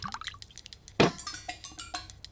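Whisky is poured into a glass in a film scene: quiet liquid trickles and drips with one sharper splash near the middle, fairly close and faint.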